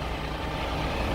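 The 7.7-litre diesel engine of an Eicher Pro 6055 XP BS6 trailer truck idles in a steady, loud, close rumble that does not change.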